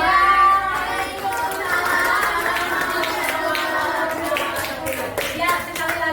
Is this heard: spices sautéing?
no